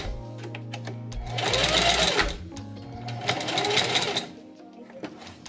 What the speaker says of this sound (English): just sew the strap to the back of the camisole and go back and forth a few times to make sure that it's secure